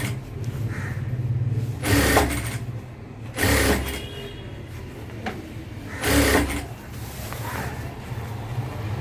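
Domestic sewing machine running in several short bursts while stitching the front and back pieces of an unlined dress top together, each run a few seconds long with quiet pauses between.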